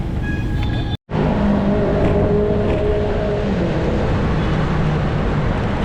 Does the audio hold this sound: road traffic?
yes